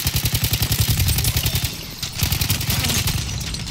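Rapid bursts from a Hellriegel 1915 submachine gun in Battlefield 1 hammer out steadily and up close, with a short lull near the middle before the firing resumes.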